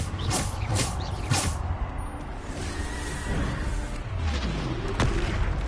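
Explosion and combat spells in Hogwarts Legacy, with several sharp whooshing bursts and booming impacts at irregular intervals against a constant game background, loud and up close.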